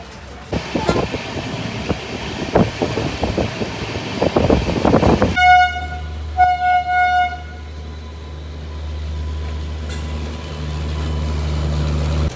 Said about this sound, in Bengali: তো আমাদের ট্রেন পুরো রাইট টাইমে চলছে